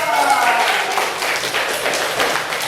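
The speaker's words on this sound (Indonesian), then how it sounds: "Ya, pintar, tepuk tangan buat Alisa." A classroom of students breaks into applause for a classmate, brisk close clapping that gradually thins out, with voices mixed in.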